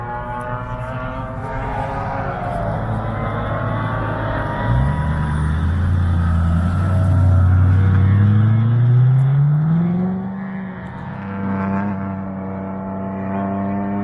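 A race car on a private track day at Thunderhill accelerates through the gears, its engine note rising and falling loudly close by, then settling to a steady drone.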